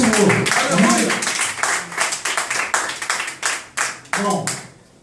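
A church congregation claps through a worship service, a loose, uneven run of handclaps at close range that thins toward the end, with voices speaking over it throughout.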